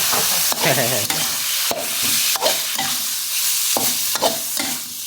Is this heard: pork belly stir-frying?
yes